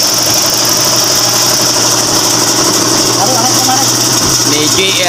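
A GAC Motor 1.5 engine idles in a workshop during a check-up, a loud, close, steady rumble with a faint squeal. Someone speaks over it near the end.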